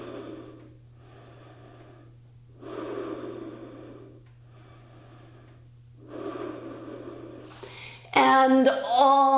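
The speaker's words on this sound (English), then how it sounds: "Big breath." Deep, slow breaths during a yoga class, several long inhales and exhales in a steady rhythm, close and fairly loud, with a low steady hum beneath and a sharper noise at the end.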